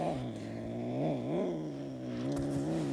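A pet cat's drawn-out, wavering meows, close and fairly loud, run almost continuously through the moment with rising and falling pitch and no one talking over them.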